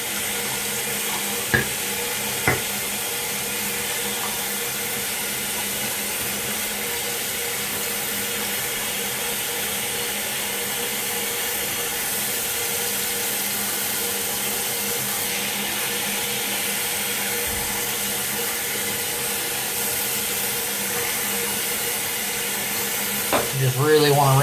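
Warm water rinses an anodized lightsaber part, probably a Dark Apprentice V4 hilt section being stripped of its anodizing. The flow makes a steady, continuous broadband hiss at close range, with a brief clatter near the end.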